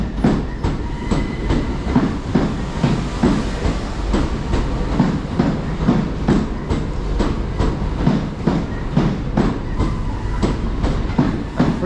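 A twelve-car Class 375 electric multiple unit rolls into a station platform in East Sussex, wheels clattering over rail joints in a rapid, even rhythm, loud and close and continuing throughout.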